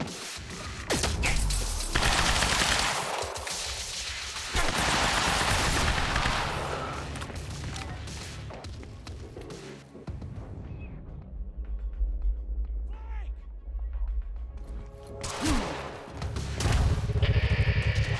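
Sustained gunfire and heavy explosions from the video game Quantum Break roar loudly and densely, with a brief lull before another burst of shots and blasts.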